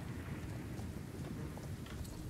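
Rain falls steadily during a thunderstorm in the Wildwood forest area of the Star Stable Online horse-riding game, a soft, continuous wash of rainfall with low rumbling underneath, faint and without speech.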